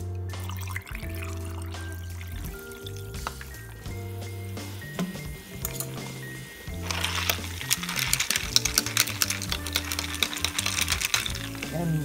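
Sparkling water is poured into a glass for a spruce, juniper and lemon mocktail, giving a fizzing, splashing pour that swells halfway through over soft background music.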